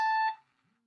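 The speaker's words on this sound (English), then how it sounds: "that's my alarm. I better get going." A single short electronic alarm beep, a clear tonal chirp lasting about a quarter second in a quiet room, followed by a faint trailing decay.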